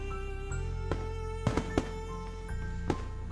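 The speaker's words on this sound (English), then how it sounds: "I listen to the low booms of the explosions and RIN's quiet breathing" Fireworks in the Katawa Shoujo visual novel at night, several sharp bursts and low booms scattered over a steady background hum, moderately loud with no speech.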